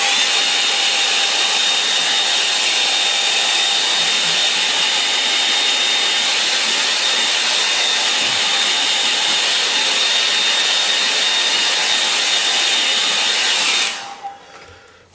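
A hair dryer blows steadily on a watercolour painting of rocks in a fishing scene, a loud continuous whooshing hiss with a faint whine, running unbroken until it shuts off near the end.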